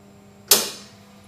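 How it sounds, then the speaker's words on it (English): A hydrostatic head fabric test machine gives one sudden mechanical clunk or whoosh as it is switched on and put in gear, fading over about half a second against a low, steady hum. "Switch on the motor"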